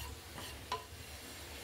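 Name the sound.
poppy seeds dry-roasting and being stirred in a pan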